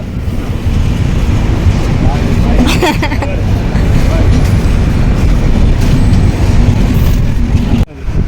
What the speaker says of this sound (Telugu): ట్రైన్ పోతుంది చూ